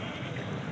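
A goat at a livestock market in Karachi lets out one drawn-out bleat, fairly loud and close, against the noisy crowd of the market.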